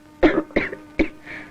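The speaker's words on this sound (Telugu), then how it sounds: "అమ్మాయి దగ్గుతున్నట్టుంది." A young woman coughs three times in quick succession, close and clear, each cough a short harsh burst with a softer throat sound trailing after the last.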